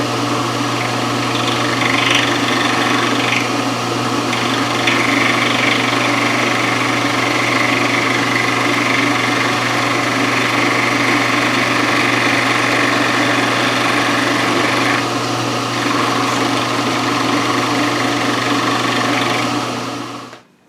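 A milling machine cuts a light pass on metal for a mill vise stop, a loud steady motor and cutter drone that holds unchanged for about twenty seconds, then stops abruptly.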